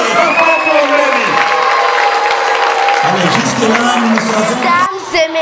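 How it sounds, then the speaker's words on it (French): A school debate audience bursts into loud, sustained applause and cheering with children shouting and whooping, the crowd noise close and continuous while a voice speaks over it. "Allez, applaudissez encore très fort pour Lélie."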